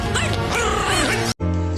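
A dog barks loudly and close by in a run of harsh, yipping barks lasting just over a second, then cuts off abruptly before a steady tone follows, in an Indian meme compilation.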